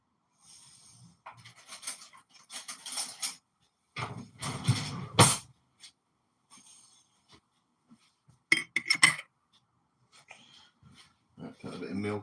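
Metal teaspoons clink and rattle in short bursts as they are pulled from a kitchen drawer, close and sharp, with quiet gaps between bursts and a voice speaking now and then.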